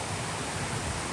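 River at Batis ng Liliw in Laguan, Liliw, Laguna, used as a swimming spot: a soft, steady wash of flowing water, faint and continuous with no voices.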